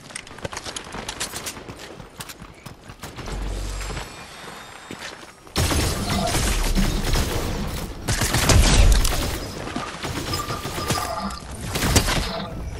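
Rapid bursts of gunfire from the Fortnite video game, loud and dense, rising sharply after a quieter opening and continuing in heavy volleys, mixed with busy game effects and no voices.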